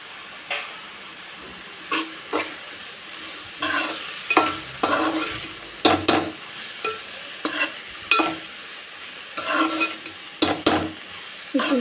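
Sliced onions with turmeric fry in a pan for a fish curry, a steady sizzle broken by repeated scraping bursts of stirring at an irregular, roughly two-second rhythm, close and fairly loud.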